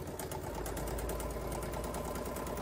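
A sewing machine stitches fabric for a quilted Poppins bag, a fast, even run of needle clatter close up and steady throughout, with no talking.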